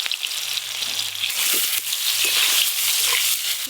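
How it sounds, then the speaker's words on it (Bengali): Dry red chillies and five-spice tempering frying in mustard oil for a sour green mango dal, a continuous close sizzle with crackling bursts that swell louder partway through. "টক ডাল ফোড়নের জন্য 5 ফোড়না শুকনো লঙ্কা নিয়েছি"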